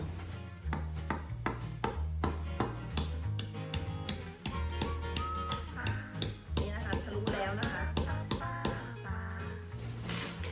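A steel punch is tapped repeatedly against the middle of a thick ceramic cup to pierce a hole, giving a quick, uneven series of close, ringing metallic clinks and pings, with no talk.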